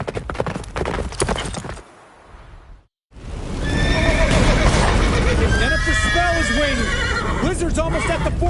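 Roach, a horse in the video game Witcher 3, gallops with rapid hoofbeats, then after a short break lets out loud, close neighs and whinnies over continued hoof clatter, with voices heard in the mix.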